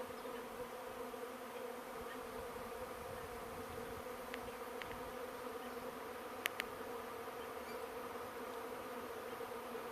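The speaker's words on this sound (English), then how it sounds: "there are bees just everywhere" Steady, dense buzzing of many bees around a swarm bait box fills the air, a constant drone with a couple of faint clicks partway through.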